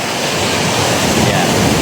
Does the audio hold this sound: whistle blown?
no